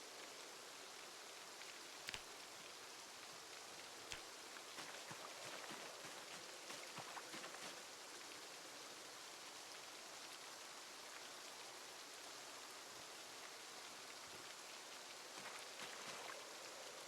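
Steady rain pattering in the Project Zomboid video game, a continuous even hiss of falling drops with occasional sharper drip clicks, moderately loud and alone without talk.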